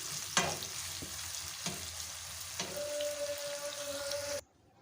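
Two large onions frying in oil until brown, with a continuous crackling sizzle, a few sharp spoon scrapes and stirs, and a faint whine near the end before it cuts off.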